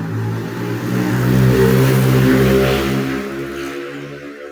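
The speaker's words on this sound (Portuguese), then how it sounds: "Só passar essa moto aqui" A motorcycle passes close by, its engine drone swelling and then fading as it moves away, with no talking over it.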